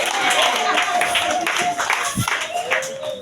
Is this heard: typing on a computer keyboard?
no